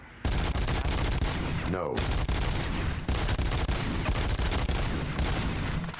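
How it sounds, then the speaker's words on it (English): Automatic gunfire from a new gun in RoboCop Rogue City, a loud, dense, continuous burst of rapid shots running almost the whole time with a brief pause, and a short voice cutting in once. "let's see how the new gun does"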